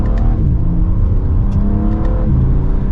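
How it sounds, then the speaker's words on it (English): A 2023 BMW M3 Edition 50 Jahre accelerates hard from second gear, a loud, steady engine roar climbing in pitch with brief gearshift dips, heard from inside the car. "And I think we need one last acceleration for today."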